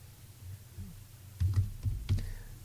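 Computer keyboard typing, a short run of soft clicky keystrokes in a quiet room, a few faint taps and then several firmer clustered key presses, close and alone.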